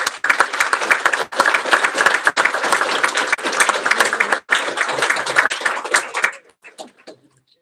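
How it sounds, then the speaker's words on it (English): A graduation audience applauds students at an adult education ceremony for medical assisting, construction and HVAC programs: dense, sustained clapping from a large crowd for about six seconds, then tapering off to a few scattered claps. "please join me in a round of applause to acknowledge our students' accomplishments"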